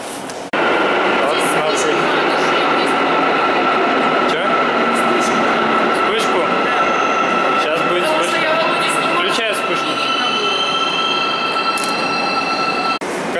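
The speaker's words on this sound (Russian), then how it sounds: "Короче, вот такое вот цивильное метро." A train rumbles through an Almaty metro station, a steady, loud roar with brief metallic squeals that runs for the whole stretch, with faint voices underneath.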